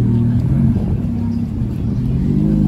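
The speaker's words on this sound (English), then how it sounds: "we're going to go to the source of revving and have a look at that" A Ferrari F430 engine revs and rumbles steadily at close range, a deep, throaty drone holding throughout with slight swells in pitch.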